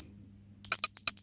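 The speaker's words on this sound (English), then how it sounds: "Let's put a little bell in there for you." A bell effect follows a quiet pause, with a few quick bright metallic rings that hold a high steady tone, close and clear.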